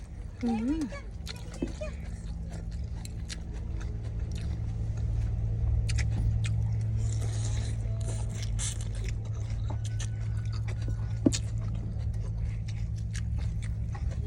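Someone eats khanom jeen rice noodles in a rich coconut curry sauce close to the microphone, with wet chewing, slurps and utensil scrapes over a low steady background hum.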